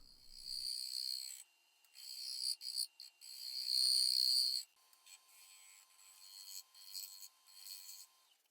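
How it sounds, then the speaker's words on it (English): Bowl gouge scraping the outside of a spinning wood and resin birdbath blank on a lathe, a bright high rasping hiss that comes in bursts and pauses, loud and close, with a faint steady hum between cuts. "just scraping with my bowl gouge"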